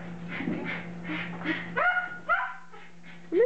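A dachshund with paralyzed back legs whimpers close up in short high whines and yips, several rising cries spaced over a few seconds, alone without talk.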